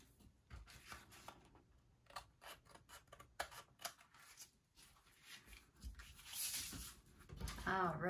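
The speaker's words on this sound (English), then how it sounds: "take our scissors, and just trim off" Scissors snip and trim paper overhang from a garland craft layout, a series of quiet, close crisp cuts and rustles of paper.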